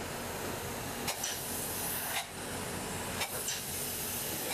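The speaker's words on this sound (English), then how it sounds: "we're spraying a little bit of foam in the box seal area here" Steady hissing spray of insulation foam sealing the box seal area of a garage ceiling, with brief breaks and bursts as the nozzle is adjusted; close and continuous, no talking.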